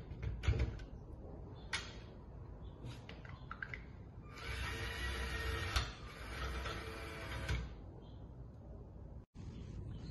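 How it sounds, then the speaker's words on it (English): A motorized LEGO rack-and-pinion vertical linear attachment, built for a FIRST LEGO League robot, gives a few light clicks and then a steady mechanical whir for several seconds. Faint knocks follow in a quiet room. "This is a demo on how this vertically aligned linear attachment works."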